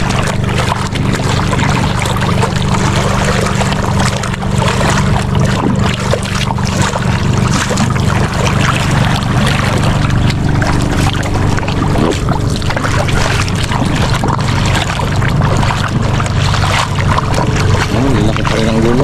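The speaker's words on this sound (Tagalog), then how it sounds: "May mga alon-alon pa rin talaga." A steady, heavy boat engine drones throughout, with continuous water rush and splashing from waves over it and no voices.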